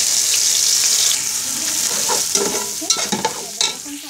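Browned onions frying loudly in a pot with ginger-garlic paste for beef pulao, a dense steady sizzle giving way to stirring scrapes and clanks near the end.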